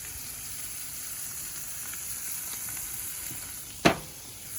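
A burger patty sizzles steadily on a Big Green Egg grill, a continuous close frying hiss running throughout, broken near the end by one sharp clank or scrape.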